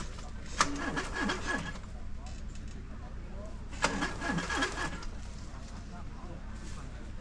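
An off-road vehicle's engine is cranked and started on a West Java trail, two brief starter bursts followed by a steady low idle, with people talking nearby.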